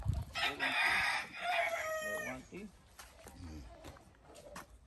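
Chickens cluck and a rooster crows on a chicken farm, close and fairly loud, with someone talking over and between the bird calls.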